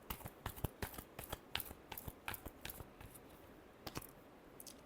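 Close, quiet shuffling of tarot cards, a run of crisp snapping riffles with uneven rhythm and short pauses between bursts, heard alone without talk.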